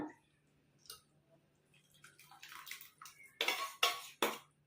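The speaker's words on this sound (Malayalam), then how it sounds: "ഇത് ഞാൻ ഇതിനകത്തേക്ക് ഒഴിച്ചു കൊടുക്കുവാണ്" Half a cup of curd pours into a pan while making mango pulissery, a few soft splashy pours and clinks building up near the end, fairly close and without talk.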